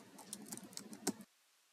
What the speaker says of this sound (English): Now you'll need to type in your username.